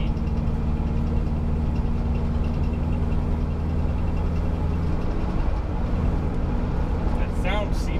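A Subaru Loyale turbo engine running steadily with a low, constant drone and a faint rattle from the drivetrain or CV axle, close and continuous, with a brief higher whine near the end.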